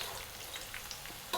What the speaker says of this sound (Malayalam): ഇതുപോലെ നമുക്ക് എല്ലാം വറുത്ത് കോരിയെടുക്കാം.